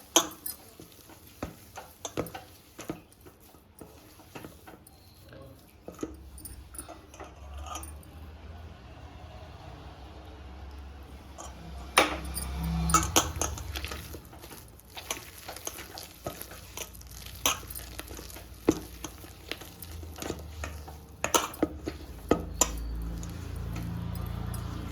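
Soft gulab jamun dough is mixed and kneaded by hand in a bowl, with scattered squishing, tapping and light clattering sounds at close range, busier and louder in the second half.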